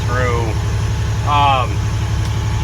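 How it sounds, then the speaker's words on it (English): A tractor engine runs with a steady low throbbing idle while a manure pump loads a tank, close and loud, with someone talking over the mechanical drone. "rev up the engine a little bit there"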